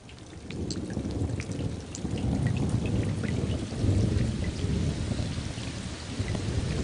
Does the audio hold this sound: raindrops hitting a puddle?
yes